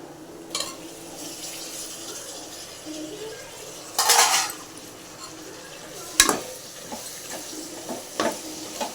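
Tomato going into onion and ginger-garlic paste for chicken biryani, stirred in a pan with a soft steady sizzle broken by a few sharp scraping clatters, close and without talk.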